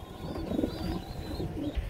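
A pair of running master pigeons coo softly and repeatedly at close range over a low steady background hum.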